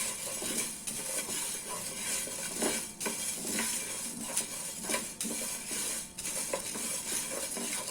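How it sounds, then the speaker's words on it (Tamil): Coriander seeds dry roasting in a kadai over a medium flame give a soft, continuous rattling hiss, with the occasional scrape and stir of a spoon against the pan, and no one speaking. "நான் ஃபர்ஸ்ட் வந்து தனியா போட்டு வறுத்துக்க போறேன்."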